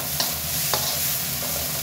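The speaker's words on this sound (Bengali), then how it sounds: "একটু নাড়াচাড়া করে নিই।" Thin tomato curry with green chilies stirred in a hot pan: a steady sizzle and bubbling simmer close by, with a couple of soft spoon scrapes against the pan and no talk.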